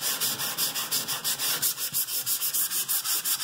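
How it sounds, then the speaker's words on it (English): A kitchen wall being scuffed up before subway tile goes on, a brisk, regular back-and-forth sanding rasp, close and steady, with no voices. "we're just going to scuff it up real good so that the thinset will stick to it better"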